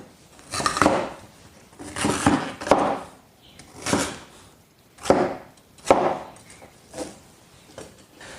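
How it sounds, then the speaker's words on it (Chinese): Winter bamboo shoots and lotus root are chopped into pieces on a board, about eight loud, close, irregular knife strikes with short pauses between them and no talking. "冬笋把它切成小一点的块，莲藕也切成块。"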